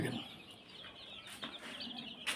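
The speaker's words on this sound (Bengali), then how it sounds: "দেশি মুরগির বাচ্চা" Young native chicks cheep inside a brooding room, a few thin, high peeps standing out faintly over a soft background murmur, scattered and irregular, with no talking.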